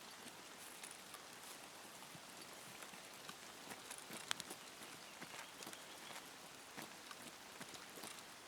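Steady rain falling in the Escape from Tarkov video game, a faint, even hiss of drops on surfaces with scattered soft taps, continuous throughout and heard alone.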